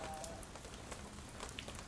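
Steady rain falls outdoors at a live roadside scene with tents, a soft, even patter that is fairly faint and continuous with no voices.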